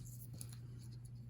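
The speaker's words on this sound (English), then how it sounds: "I'm going to use my scissors." Scissors snip through paper circuit tape at a table during a kids' craft session, a few faint crisp clicks and cuts over a low steady hum, quiet and close.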